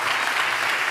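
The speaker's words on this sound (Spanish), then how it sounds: "Denle otro aplauso al Señor" Congregation applauding in a church, a steady wash of many hands clapping continuously and fairly loud, with no pauses.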